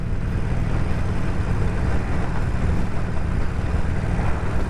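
A Harley-Davidson Sportster 48 motorcycle on the road gives a steady, dense low rumble. Heavy wind noise is mixed in, with no talk.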